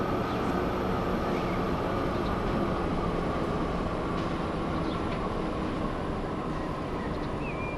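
A passenger train in Transport Fever 2 runs steadily along the track, a dense continuous rolling rumble with faint high tonal whine, even and unbroken throughout, with no voices over it.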